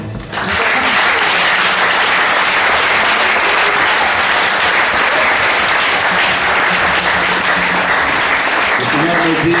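A church congregation at a healing and miracles service applauds the Lord: sustained, dense clapping from a large crowd that holds steady throughout.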